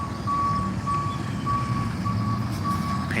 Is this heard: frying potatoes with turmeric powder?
no